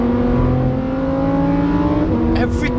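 A Lamborghini Huracan STO, a road car built to mimic a GT3 racer, revs its engine hard with a loud, close, rising tonal roar, shifting pitch near the end.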